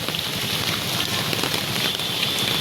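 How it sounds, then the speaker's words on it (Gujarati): Rain falling in Surat on a Sunday, a steady dense hiss of drops on surfaces, close and continuous without talk. "રવિવારના દિવસે સુરતમાં વરસાદ ચાલુ થઈ ગયો છે"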